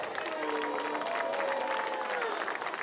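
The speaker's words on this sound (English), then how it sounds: "Go ahead, big round of applause." A stadium crowd at a high school football game claps for returning alumni, a steady wash of applause over a few seconds, with voices murmuring underneath.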